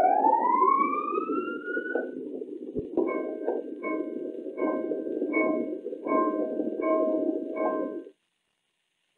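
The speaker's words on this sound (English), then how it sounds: "you will hear a series of alarms and another announcement over the public address system." Submarine alarm sequence: a rising siren sweep followed by a series of repeated short electronic beeps over a steady hum, loud and close, with no speech.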